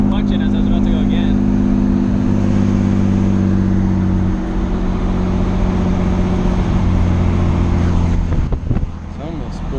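A car engine idles and revs with a steady droning hum, building slightly as it spools, loud and close throughout.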